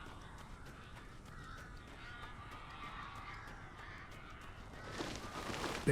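Crows caw repeatedly in Alan Wake Remastered, their harsh calls fairly quiet and somewhat distant over a low ambient bed, with the background swelling louder near the end.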